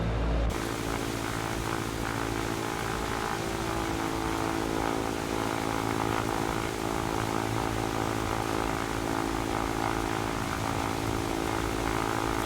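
A propeller aircraft engine drones steadily and close throughout, a constant harmonic hum in the X-Plane 11 flight simulator while flying low over a valley near Dundee, with no talking.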